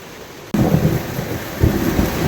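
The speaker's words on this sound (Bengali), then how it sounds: "মুষল ধারায় বৃষ্টি, সেই সাথে সমানে মেঘ ডাকছে, বিদ্যুৎ চমকাচ্ছে।" Loud thunder rumbles over heavy, steady downpour in a mangrove storm at a narrow creek in the Sundarbans, with a sudden onset of the roaring rain and a second deep rumble rising near the end.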